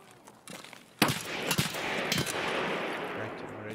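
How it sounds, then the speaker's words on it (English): Gunfire in Escape from Tarkov sounds as a few sharp shots from an unseen shooter. A quieter crack comes first, then a louder burst followed by further reports over a rumbling background. "I'm already getting shot at."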